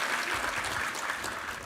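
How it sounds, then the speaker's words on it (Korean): Church congregation applauding the women's vocal ensemble during a Sunday worship service, a steady, dense wash of clapping hands from a large room with no pauses. "우리 여성 중창팀 황혜재 지휘자 여성 중창팀 한번 감사의 박수 하겠습니다."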